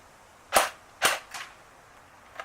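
An airsoft AK rifle, a medium-speed SSG build, shooting 0.2 gram BBs: three sharp, close shots in uneven succession, the third softer, with quiet gaps between.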